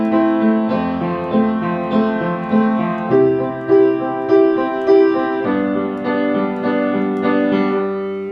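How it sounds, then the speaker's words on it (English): Piano playing broken chords in steady eighth notes, two notes struck together at a time, with sustained low bass notes underneath; clear and close, alone with no talking. "Kind of a similar pattern with 8th notes over here, but instead of just breaking up the individual notes, I'm playing 2 at a time."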